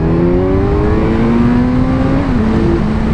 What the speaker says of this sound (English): There's some quick acceleration. That's just in second.